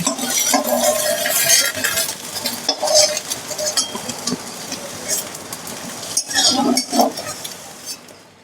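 Fried brinjal is lifted out of hot oil with a utensil, a close sizzle broken by metallic scrapes and clinks against the pan, uneven and fading toward the end.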